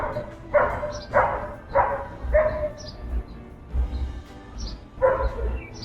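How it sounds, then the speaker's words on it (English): A dog barks repeatedly to be let inside, a steady series of sharp, moderately close barks outdoors with short pauses between them, no talking over it. "Somebody's doggy wants in."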